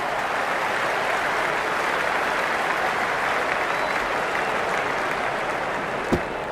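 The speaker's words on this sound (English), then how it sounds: "The crowd is electric right now." A stadium crowd at a Sydney Sixers versus Melbourne Stars cricket match applauds and cheers in a steady, dense roar of clapping that holds at even loudness throughout, with one sharp knock near the end.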